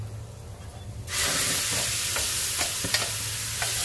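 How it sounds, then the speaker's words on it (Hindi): Tomatoes go into a hot pan of bitter gourd sabzi over a low flame, and after a quiet moment a loud, steady sizzle bursts up with a few stirring clicks. "अब इसमें डाल देते हैं ये अपना टमाटर।"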